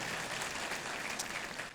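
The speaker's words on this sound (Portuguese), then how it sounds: "Então, aplauda bem forte ao Senhor Jesus." A church congregation applauds together in praise during a worship service, a dense, steady wash of many hands clapping close up that holds for the whole stretch before easing slightly at the end.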